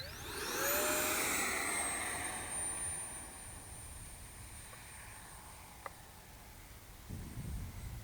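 A FreeWing Rebel 70 V2 RC jet with a fast 6S electric ducted fan whooshes past with a loud falling whine, then fades into a distant steady hiss as it climbs away, broken by a sharp click near the end.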